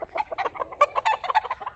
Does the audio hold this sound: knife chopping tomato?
no